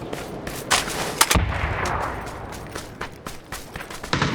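Gunfire from the battle-royale game PUBG: a dense burst of shots cracks out, with a few sharp loud reports standing out above a constant backdrop of scattered distant shooting and rumble. No voices are heard.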